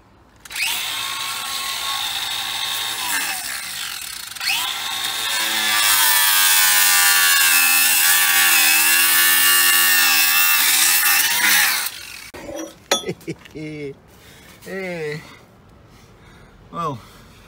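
An angle grinder cuts through metal, a loud, steady high whine that rises in pitch and then stops abruptly, followed by someone talking close by.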